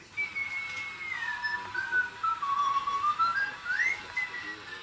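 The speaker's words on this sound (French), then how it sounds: "il va siffloter" Meccano robot whistling a continuous wavering tune that glides down and back up in pitch, clear and close, with no talking over it.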